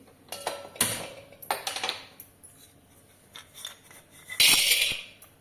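Almonds roasting in a pan, dry or in ghee, stirred with a utensil: scattered metallic scrapes and clinks in short bursts, with a louder clatter near the end, close and fairly quiet.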